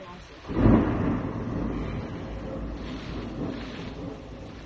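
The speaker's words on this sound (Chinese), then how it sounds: "我外边那个今天在下暴雨" Heavy rainstorm with thunder outside, a low rumbling thunder swell near the start fading into a steady, muffled wash of rain and wind, heard from indoors.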